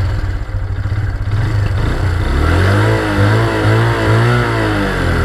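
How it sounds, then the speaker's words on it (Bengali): A Hero Ignitor 125 motorcycle engine revs while being ridden, its loud, close mid-pitched drone rising and wavering in pitch as the throttle opens, with no talking. "মানে ইঞ্জিনের যে আওয়াজটা যথেষ্ট পরিমাণে ভালো।"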